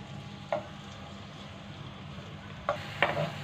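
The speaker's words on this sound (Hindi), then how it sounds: "इसमें शामिल करेंगे बारीक कटा हुआ लहसुन, इसको फ्राई करेंगे" Finely chopped garlic frying in half a cup of oil in a wok, a steady low sizzle running throughout with a few brief louder clinks or stirs near the start and end, no talking.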